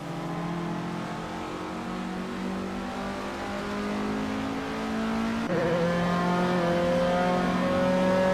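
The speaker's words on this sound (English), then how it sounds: "the race has just kicked off at Virginia International Patriot Reverse" A 1970 Abarth 1000 TCR race car in a racing video game revs hard at the race start at Virginia International Raceway, Patriot reverse layout; the engine note climbs steadily, then jumps to a higher, rising whine as it accelerates.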